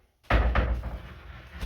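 A frameless sliding glass shower door is handled during installation, giving two sharp knocking impacts close together followed by a lingering resonant rumble, loud and near, with no voices.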